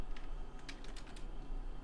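Keys on a computer keyboard click in a quick, uneven burst of taps, faint and close, over a steady low hum while someone works in Blender.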